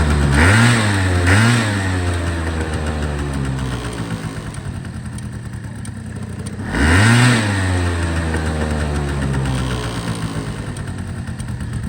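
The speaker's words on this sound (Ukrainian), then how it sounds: "двигунчик на 10 з 10 навіть навіть поршень не дзвенить, тобто робота двигуна, як на мене, просто ідеальна" A Honda Dio AF-34 scooter from Japan runs up close, its small engine idling steadily between two quick throttle blips near the start and another rev partway through, with no talk.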